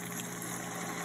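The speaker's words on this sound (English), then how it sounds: "Now I am adding warm water" Warm water is poured steadily into a pan of gravy, producing a continuous, even gushing wash without pauses or voices.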